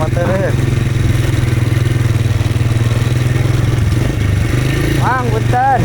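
A motorcycle engine runs close by on a village ride in rural Sundanese countryside, a steady, loud, throbbing drone that holds for the whole stretch, with a few brief high chirps over it.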